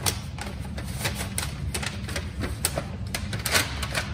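Top of a paper evidence bag being folded over, a series of close crinkling, tapping paper sounds and soft thumps in an irregular rhythm.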